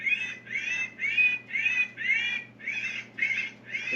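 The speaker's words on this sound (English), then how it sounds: "Starling distress." A starling distress call from an electronic predator caller sounds as a continuous run of harsh, raspy squawks in quick rhythmic pulses, fairly loud, over a low background hum.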